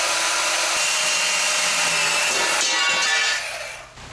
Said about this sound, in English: I'm cutting this Uni-Strut using a portable bandsaw that I bought from Harbor Freight